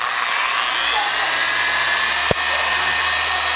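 A car polisher fitted with a 3-inch pad runs steadily at speed 4, a loud continuous whirring drone with one brief knock partway through.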